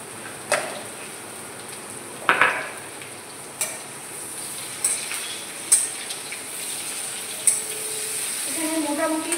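Vegetables including pointed gourd and salted tomato sizzle steadily in a hot pan while a utensil scrapes and stirs now and then, with sharp clinks every second or so.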